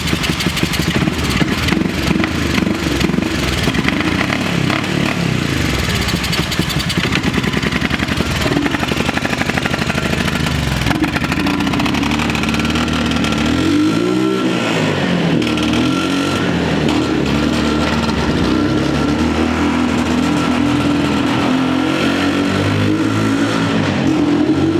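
A Honda Fourtrax TRX 350 ATV, a barn find revived after sitting 26 years, runs and drives with a loud, rough engine note that rises and falls as it revs, continuous throughout.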